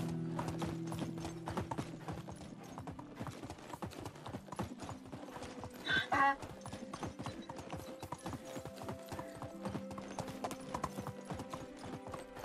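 Hooves clip-clop in a fast, steady rhythm as a horse moves in Medieval Dynasty, a close string of sharp thuds over a low droning background that runs throughout, with no talk.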